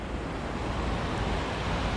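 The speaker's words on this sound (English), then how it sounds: "here's the river that I followed all the way up. Still flowing quickly" A fast-flowing river at Merthyr at the end of the Taff Trail rushes in a steady, dense broadband roar, close and continuous without pause or voices.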